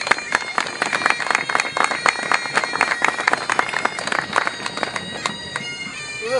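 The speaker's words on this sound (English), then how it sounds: "Can we start with a round of applause for the Tully Allen Pipers?" Applause for the Tully Allen Pipers at an outdoor Callander event: steady, dense clapping from a crowd, continuous and fairly loud throughout with no talk over it.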